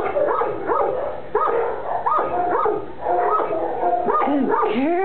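A shy, overwhelmed female bullmastiff mix in a shelter whimpers and yips repeatedly close by, with short barks and whines rising and falling in an uneven rhythm, and a person speaking softly now and then.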